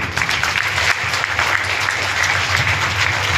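An audience at a Shrimad Bhagwat Katha religious gathering in a temple claps together in a dense, loud burst of applause that holds steady for a few seconds.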